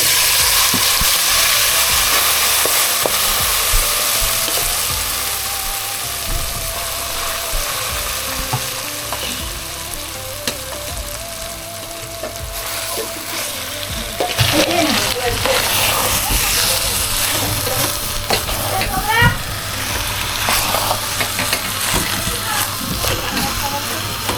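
Whole spices tempered in hot ghee in a home kitchen, a loud continuous sizzle and hiss with stirring scrapes, growing busier midway, while a voice talks at times over it.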